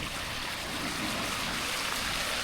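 A waterfall stream on the Isle of Skye rushes in a steady, broadband wash of flowing water, close and continuous with no voices.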